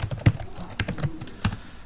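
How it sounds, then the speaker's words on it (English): Keys clacking on a computer keyboard as code is entered into Notepad, a handful of irregular, close taps and a few louder strokes, with no voice over them. "so here I am typing hash include"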